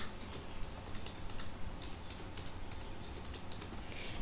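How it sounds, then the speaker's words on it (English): Someone typing up a presentation on a computer keyboard produces fairly faint, irregular key clicks with a steady rhythm, heard alone without speech. "Here I am going to type"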